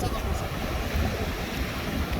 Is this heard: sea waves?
yes